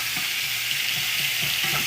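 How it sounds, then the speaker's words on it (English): Sausage sautéing in a pan for sausage gravy, a close, continuous hiss and crackle of frying fat with faint soft knocks underneath. "We've got our sausage sauteing up."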